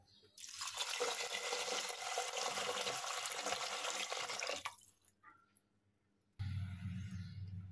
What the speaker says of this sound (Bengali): এখন পরিমাপ মতো পানিটা অ্যাড করব